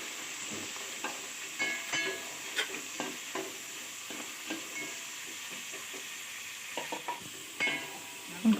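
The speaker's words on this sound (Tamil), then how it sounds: "நம்ம நடுவில் நறுக்கி வச்சுருக்க கறி சுண்டைக்காயும் சேர்த்து வதக்குறோம்" Sundakkai and garlic sautéing in hot oil, a steady soft sizzle broken by repeated clinks and scrapes of a stirring spoon against the pan, with no talk.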